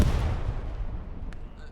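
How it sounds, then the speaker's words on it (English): A grenade bursts with a deep boom in the WWII shooter Hell Let Loose, its low rumble rolling away over the next second or so, with faint sharp gunshot cracks behind it. "Broccoli on the other side of the courtyard throws out a nade"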